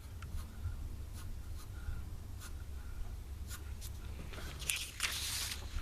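Pen sketching a Zentangle grid pattern on paper, heard up close as repeated short scratchy strokes and light taps that grow denser and louder toward the end, over a low steady background hum.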